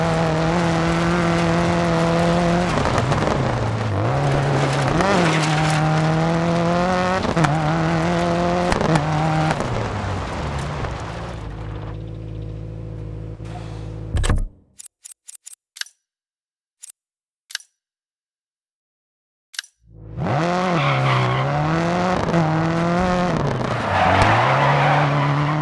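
A rally car in the game Dirt 4 slides with a sustained engine drone and tyre scrub that rises and falls. It breaks off into near silence with a few sharp clicks before the engine roars back.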